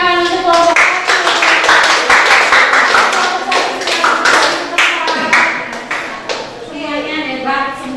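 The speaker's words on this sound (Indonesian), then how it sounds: "Kasih tepuk tangan untuk kelompok." A room full of people, likely a class group, claims steady clapping in applause for a group, with voices and cheering mixed through the crackling claps for about eight seconds.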